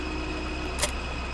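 An ХТЗ-17022 tractor idling in Farming Simulator 2015 gives a steady low engine drone with a faint regular pulse and one short hiss partway through, with no talk.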